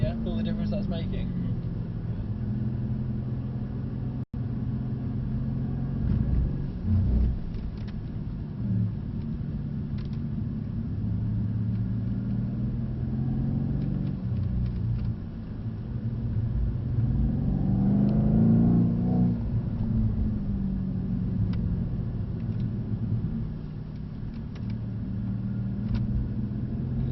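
A car engine rumbles low and steady, swelling as the throttle opens for a burst of power and then easing off under braking, with a voice talking intermittently over the drone.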